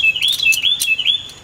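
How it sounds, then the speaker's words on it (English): A loud pet bird chirps indoors in a quick run of high, bright calls that rise and fall, close to the microphone and heard on its own with no talking. "So That's my very loud bird."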